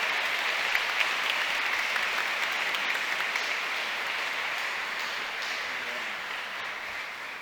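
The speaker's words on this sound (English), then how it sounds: "I'll just invite the audience to give you a further round of appreciation and applause" A conference audience at an energy transition summit during London Climate Action Week gives sustained applause, an even, dense wash of clapping that holds steady and fades slightly toward the end.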